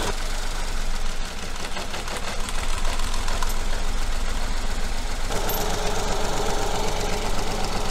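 A car engine idles roughly with a misfire after one cylinder's fuel injector is disconnected, a loud close, steady running drone with an uneven knocking pulse and no voices.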